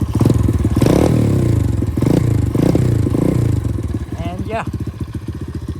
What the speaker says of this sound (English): The exhaust sounds really nice.